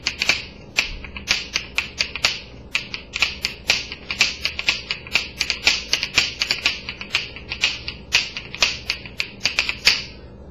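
Rhythm bones clatter in fast, dense bursts of bright wooden clicks that form rapid grouped rolls, steady and close throughout with no speech.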